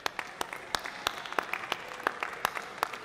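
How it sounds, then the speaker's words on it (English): Sparse, fairly quiet clapping at a Porsche auction event, a few individual claps scattered unevenly across a few seconds rather than a full crowd ovation. "A round of applause, please, for this fantastic Airwater event."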